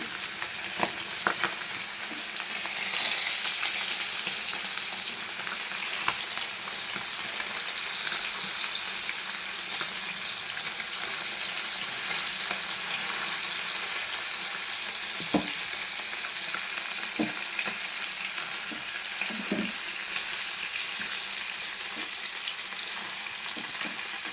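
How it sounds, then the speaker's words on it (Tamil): Fish pieces frying in hot oil on a dosa tawa, giving an even, close sizzle that carries on for a long stretch, with occasional small pops and clicks. "அழகாக நம்ம மீன் அடுக்கி வறுத்து வச்சுக்கலாம்"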